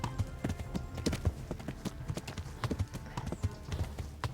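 A horse gallops in the medieval game Kingdom Come: Deliverance, its rapid rhythmic hoofbeats pounding close and steady throughout, with no talking.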